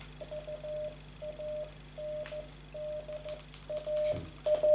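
Morse code signal sounding over a ship's tannoy: a steady mid-pitched tone pulsed in repeating bursts of dots and dashes, with faint background hum and a few soft clicks beneath.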